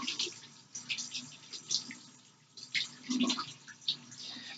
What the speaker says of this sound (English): After we get that done, we're going to rinse our hands.